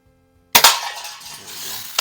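A 1946 Daisy Model No. 155 lever action BB gun, a first-year production piece, fires with one sharp crack that decays quickly, followed by a faint click a moment later, close by.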